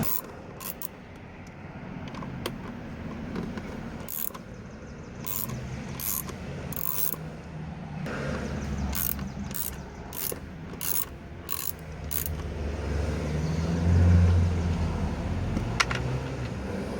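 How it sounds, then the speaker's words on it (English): A ratchet with a 5/32 six-sided bit backs studs off a Ford S197 Mustang mirror mount, giving bursts of rapid clicking ratcheting in short runs, with rubbing and handling noises between them. "I'm gonna take these studs off, and I'm using a 532 bit right here"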